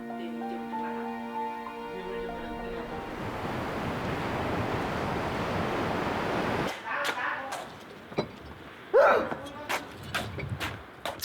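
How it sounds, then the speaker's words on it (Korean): Cold sea wind and surf roar along a coast as a dense, rushing wash that rises after a stretch of music, then breaks off into scattered sharp knocks and clatter. "차가운 바닷바람은 해녀도 몸서리치게 만듭니다."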